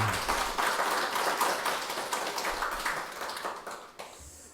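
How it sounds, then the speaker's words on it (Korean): Congregation clapping during a Sunday church service, a moderately loud wash of many hands that slowly tapers off, with a few isolated claps trailing at the close. "우리 하나님께 감사와 영광의 박수 올려드리겠습니다."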